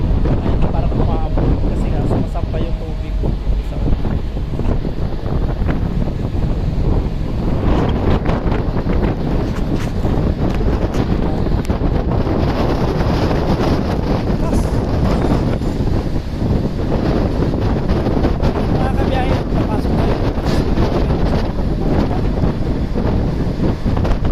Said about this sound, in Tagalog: sobrang lakas ng hangin, hindi na halos maririnig yung boses natin